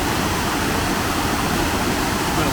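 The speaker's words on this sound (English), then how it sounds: "It's coming off the castle pond. Some sort of weir." Water pours steadily over a weir fed by a castle pond, a loud, continuous close-up rush with no voices.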